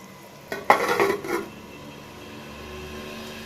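A lid is set onto a pot of fish kuzhambu with a short metallic clank and rattle, followed by a quiet low simmer.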